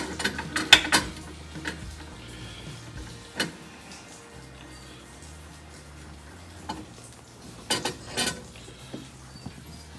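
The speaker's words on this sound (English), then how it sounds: "now what we're going to do is take and create the actual flare that will seal against the fitting" A flaring tool forms the sealing flare on the fuel line of a 1947 Ford hot rod, with scattered mechanical clicks and ratcheting ticks over a quiet workshop background.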